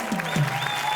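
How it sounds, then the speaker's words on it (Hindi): Clapping from a studio audience for Bindu, a short burst of even applause on an entertainment talk show, with a faint voice running beneath. "बिंदु पाजी के लिए जोरदार तालियां"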